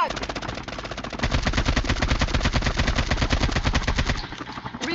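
QXR submachine gun fire in Call of Duty Mobile, loud rapid sustained bursts of automatic shots in a fast even rhythm, preceded by a brief lighter burst and ending abruptly, with no talk.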